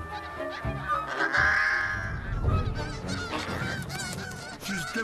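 Geese honk loudly and continuously as they defend their nesting colony from a fox, with harsh overlapping calls up close.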